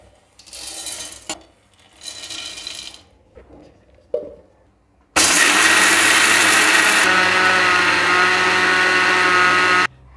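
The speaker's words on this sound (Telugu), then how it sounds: "వీటిని కూడా మిక్సీ పట్టుకోవాలి." A mixer grinder grinds dry-roasted, peeled peanuts: a few short bursts of whirring at first, then one loud, steady run of the motor that lasts about five seconds before it cuts off.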